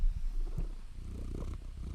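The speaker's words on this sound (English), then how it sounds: "So you might hear some ASMR purring and meowing at one point or another now that she's up here." A cat purrs up close, a low continuous rumbling purr held steady through the whole moment, with no talking over it.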